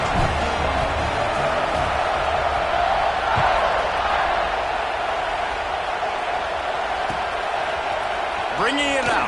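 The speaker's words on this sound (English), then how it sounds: "this crowd is feeling themselves after that" Football stadium crowd roaring in a steady broad wash after a scoring drive, loud and continuous, with a commentator talking over it throughout.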